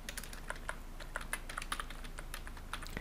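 A domain name being typed on a computer keyboard, a rapid, steady stream of light key clicks over faint background noise, close and moderately quiet, with no speech.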